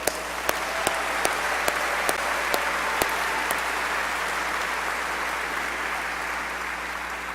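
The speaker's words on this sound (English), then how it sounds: "So let's give them one more round of applause" A large crowd of faculty and staff applauds at a university convocation and annual faculty meeting, a dense, even wash of clapping sustained throughout, with a few sharper close claps standing out near the start.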